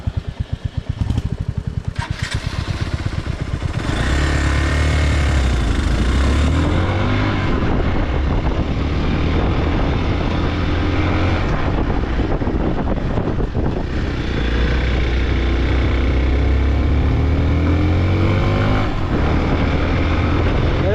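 A motorcycle rides along a road near Sadawaghapur, its engine droning loudly and steadily with rising and falling revs, wind rushing over it and a few clatters early on.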